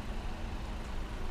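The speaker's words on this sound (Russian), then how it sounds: "автобус вот подъехал только. Шумит." Steady low rumble of a bus engine pulling up nearby at a quiet Norwegian fjord, a continuous broadband drone with no voices.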